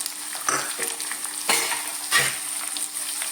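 Sliced onion, small shallots, garlic and ginger sautéing in a pan, a continuous close sizzle broken by three or four louder bursts as a spoon stirs and tosses the mixture.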